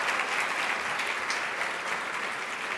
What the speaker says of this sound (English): Sam, I'd just like you to stand and get a rousing applause